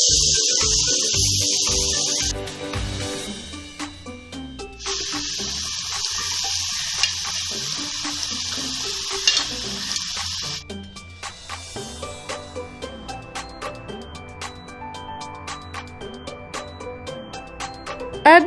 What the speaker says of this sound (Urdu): اب اس سبزی اور مسالے کو چمچ کی مدد سے مکس کر لوں گی۔